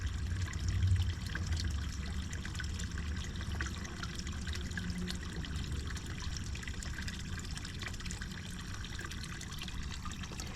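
Water trickles steadily into a garden pond, a continuous soft splashing and burbling with no pauses, close and even throughout.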